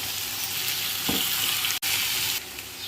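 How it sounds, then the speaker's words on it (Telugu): Bitter gourd fries in a pan as ginger garlic paste goes in. A steady, close, loud sizzle with a soft stir near the middle and a brief dip in the hiss. "చూసారా బాగా ఫ్రై అయిపోయింది ఇప్పుడు కొంచెం అల్లం ఎల్లుల్లిపల్లి పేస్ట్ వేసుకుందామండి"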